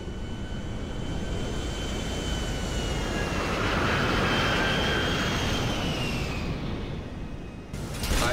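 An airplane flies in the video game GTA 5, giving a steady engine drone with a whooshing rush that swells in the middle and then fades, alone without voices.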